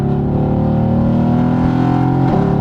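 A car engine revving hard at high RPM, loud and close, a sustained strained harmonic roar that climbs and then dips near the end, with no voices.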